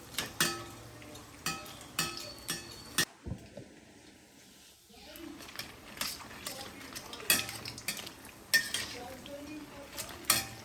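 Mysore bondas made from leftover idli batter are turned in a pan of frying oil, with repeated close metal clinks and scrapes of a utensil against the pan over a soft sizzle, in irregular bursts without talk.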